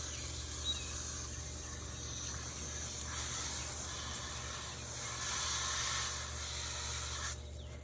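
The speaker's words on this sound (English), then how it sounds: "Tried to spray the concrete," A spray of liquid hissing onto concrete beside a pool to deal with flying ants, a steady close hiss that swells and fades over a low hum.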